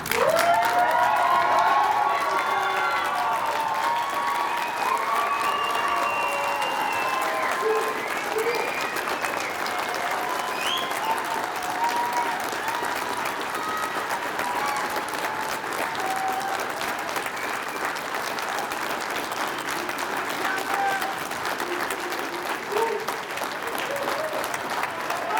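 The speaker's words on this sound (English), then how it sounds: "show them how much you love them by cheering for them" A graduation audience at a cadet class ceremony applauds and cheers steadily, with sustained clapping and shouts from a large crowd filling the hall throughout.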